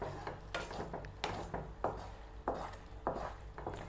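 Spoon scraping and knocking against a pan while thick banana halwa is stirred, a run of irregular wooden clacks and scrapes over a low steady background hum, with no talking.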